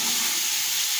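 Cumin seeds dropped into hot oil with already-fried garlic for a mutton yakhni pulao, a bright, steady sizzling hiss filling a short moment.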